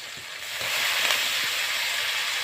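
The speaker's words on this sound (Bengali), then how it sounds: "এখন চিকেনটা ছেড়ে নেব।" Chicken pieces dropped into cooked-down spiced masala in a pan, frying with a steady, loud sizzle and hiss that swells after the first half-second and holds throughout, with no voices.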